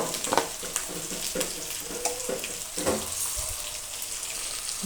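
Cut potatoes frying in a pan for a brinjal potato curry, a steady close sizzle with scraping stir strokes and clinks of a utensil against the pan, no talking.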